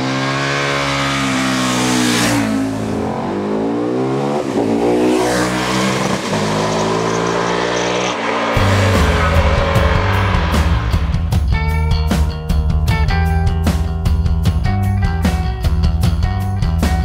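A crossover motorcycle engine rides past on a road in Emilia Romagna, first a loud, rising and falling roar as it accelerates, then a steady, throbbing engine note with sharp pulses from closer up. No one speaks over it.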